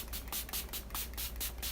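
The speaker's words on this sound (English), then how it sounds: "So we're just gonna do a little shaky poo here and just do a spray." Face mist sprays from a spray bottle in a quick series of about five short hissing bursts, close to the ear and evenly spaced, with no talking.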